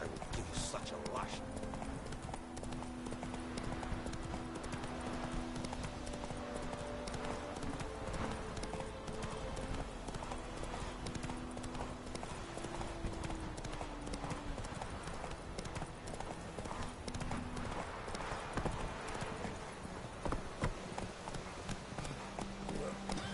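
Horse hooves clip-clop at a steady gallop in The Witcher 3 video game, a continuous rhythmic pounding under music and a voice speaking throughout.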